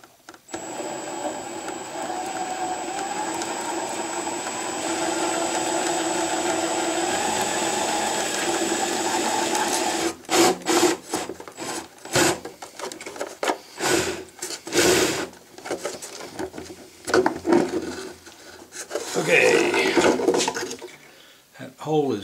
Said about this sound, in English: I'm going to hold this here and I'm going to drill my hole.